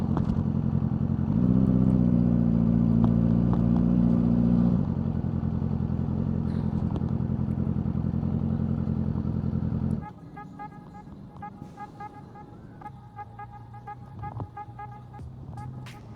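Yamaha R6 sport motorcycle ridden at night on a road in Korea, a loud steady engine drone that rises in pitch as it revs, then drops to a quieter idle with traffic noise around it.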